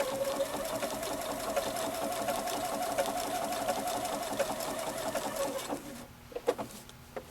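Sewing machine smocking a dress runs in a steady, continuous hum for about six seconds, then stops and gives way to a few soft clicks and handling noises as the fabric is repositioned.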